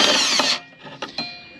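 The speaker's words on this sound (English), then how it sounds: "So we'll drill this out." A power drill bites into a metal bracket for a Mk3 Golf 1.8 20v turbo conversion. A loud, brief whirring burst cuts off abruptly, followed by a few quieter clicks and ratcheting knocks.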